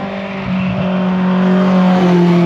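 A pair of Alfa Mark 7 racing cars climb the Shelsley Walsh hill course, their engines a loud, steady, rising drone that builds and holds across the whole moment.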